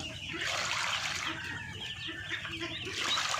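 A flock of farmed ducks clamours for food at close range, with a dense, continuous chatter of quacks and calls overlapping without pause.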